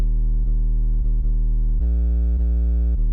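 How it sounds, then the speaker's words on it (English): A single steady synth note sustains and retriggers several times at irregular intervals, shifting to a lower, fuller pitch partway through, loud and alone. "there's just this single note that repeats."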